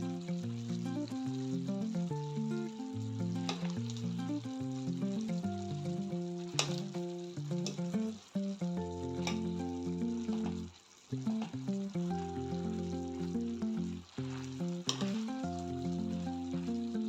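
Chorizo de Cebu frying in a pan, a continuous sizzle and crackle of fat running throughout, heard alongside steady background music with no speech.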